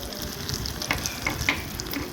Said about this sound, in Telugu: ఒక ప్యాన్లో నెయ్యి వేసుకొని దాంట్లో మిరియాలు ఎండుమిరపకాయలు పచ్చిమిరపకాయలు కరివేపాకు ఇంగువ ఇవన్నీ వేసి తాలింపులాగా వేసుకోవాలి